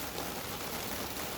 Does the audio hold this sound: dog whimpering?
no